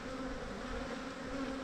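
A dense, steady buzz of honey bees swarms around a hive box from an aggressive colony, continuous and moderately close with no voices.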